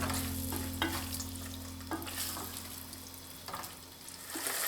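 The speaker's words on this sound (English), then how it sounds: "Saute briefly, then add the parboiled potatoes." Parboiled potatoes sautéing in a pan of chicken curry, with a steady close sizzle and frying hiss under occasional stirring scrapes and clinks, no talking.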